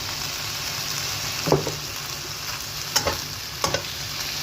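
Eggplant stir-frying in a pan, a steady sizzle with a few sharp scrapes and stirs of a utensil spaced through it, close and alone without voices.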